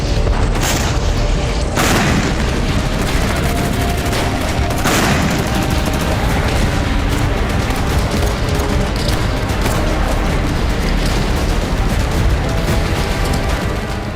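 Russian tank fire during the war in Ukraine: dense, continuous rumbling booms and crackling blasts, loud and unbroken, with several sharper bursts standing out early on.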